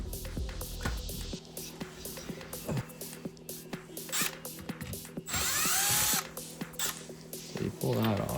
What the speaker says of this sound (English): you grab your drill with a chuck